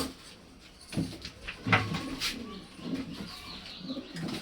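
Pigeons in their coop coo softly and intermittently, close by, mixed with light knocks and rustling and no talk.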